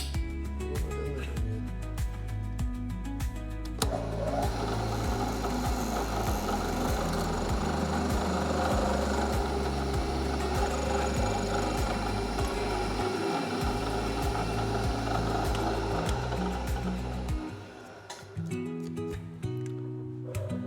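A milling machine cuts a hex bolt, a steady dense mechanical grinding whir with a low, rhythmic drone, loud and continuous, easing off near the end.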